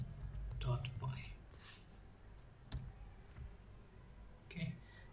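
Keystrokes click on a computer keyboard as a command is typed at a command prompt, a few quick taps and short bursts heard close and quiet under a softly speaking voice.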